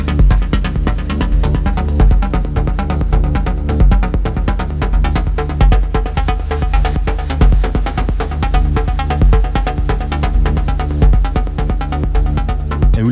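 Complex synth voice patch built in Bitwig's Polygrid, modeled on Eurorack complex oscillators: a dense, loud, continuous tone with a pulsing, rapidly modulated texture running unbroken throughout, with no talking.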